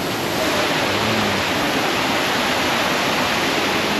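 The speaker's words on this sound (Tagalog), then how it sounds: "Ito daw yung tinatawag nilang man-made na falls" Man-made waterfall at Kakawayan Falls in Infanta, Quezon, with clear cold water: a loud, steady, broadband rush of falling water that continues unbroken and close throughout.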